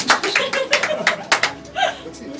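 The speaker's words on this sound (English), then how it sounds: "Round of applause for her." During a live mind-reading show, a few short bursts of clapping from the audience sound close by, with light chuckles and voices in between.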